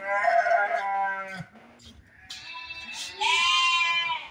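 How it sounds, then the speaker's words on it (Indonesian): A pair of goats, a male and a female, bleat several times in succession, close and clear, with short quiet gaps and a higher, wavering final call. "Mana kambing ini? Dua ekor jantan betina."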